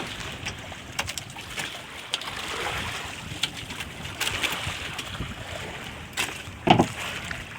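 Sea waves washing around a small fishing boat out on open water, with a continuous rushing wash, wind buffeting the microphone, and occasional knocks and splashes against the hull; no one speaks.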